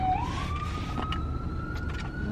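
An ambulance siren wails faintly from outside, heard from inside an air-conditioned car. A single rising then steady tone sustains over the low hum of the car interior.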